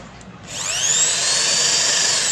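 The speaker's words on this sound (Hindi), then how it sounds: "तो दोस्तों देखिए, ये अभी फॉरवर्ड दिशा में चल रही है" An electric drill machine running in forward direction spins up abruptly after a brief quiet moment, then holds a loud, steady, high motor whine to the end, with no voices.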